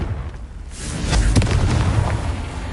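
A Confringo fire spell explodes in the video game Hogwarts Legacy with a loud, full blast that swells and rumbles for a couple of seconds, alone and without talk.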